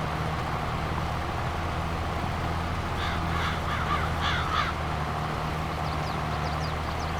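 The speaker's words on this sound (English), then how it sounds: "Hope the birds aren't eating our seed." Several crows caw in a short burst of harsh calls over the steady drone of farm machinery in Farming Simulator 22, followed later by a few fainter calls.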